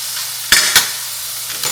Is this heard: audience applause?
no